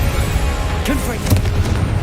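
A Confringo spell explosion in Hogwarts Legacy: a short burst and low boom rising out of a loud rumbling background, followed by a brief crackling decay.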